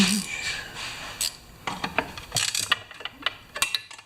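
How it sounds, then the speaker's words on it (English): A 1/2 inch straight, non-angled ratchet wrench working on the gas tank of a 1968 Homelite XP1020 chainsaw, giving irregular close clicks and metallic clanks among rustling handling noise. "I might have to get a 1/2 inch ratchet wrench."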